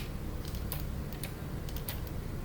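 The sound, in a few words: computer keyboard key presses while modeling in Blender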